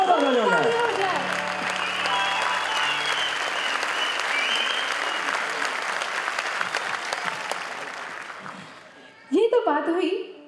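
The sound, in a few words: loud audience applause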